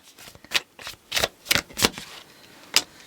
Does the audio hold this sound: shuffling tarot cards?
yes